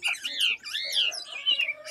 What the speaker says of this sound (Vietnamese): Chim hót tốt nhé các bác nhé.